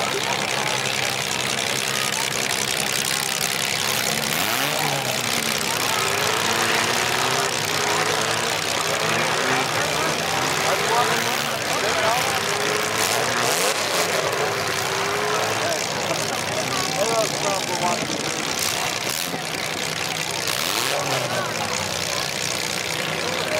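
Demolition derby cars idling at a county fair derby arena, a continuous rumbling engine drone from several vehicles held steady throughout, with a voice talking over it.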